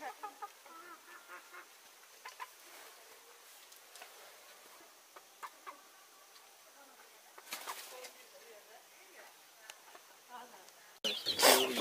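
Sonali variety chickens in a small poultry shed cluck and squawk in scattered short bursts at a moderate distance over quiet background, ending with a sudden loud rustling burst.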